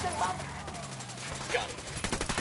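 Automatic gunfire rattles in rapid bursts in Ghost Recon Wildlands during a firefight, dense and loud, with a quicker burst of shots toward the end.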